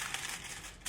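Hair foil for highlights is handled close up, giving a soft, steady crinkling that lasts under a second, with no voices.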